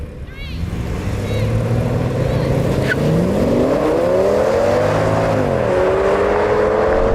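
An Audi S8 accelerates flat out in a drag race, its engine note climbing steadily, dipping at a gear change, then rising again, loud and close throughout.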